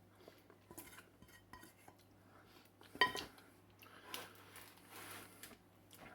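A metal spoon scrapes and stirs baked beans around a cooking pan, with a run of soft, irregular clinks and scrapes and a sharper knock near the middle, fairly close and with no talking.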